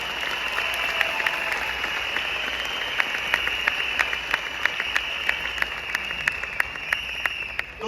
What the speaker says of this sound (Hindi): तो आप अपने लिए जबरदस्त ताली बजाइए।